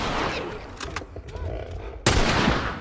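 Gunfire in The Last of Us combat against infected, dense loud shots with a sharp heavier blast near the end, under a continuous game soundscape with a voice talking over it.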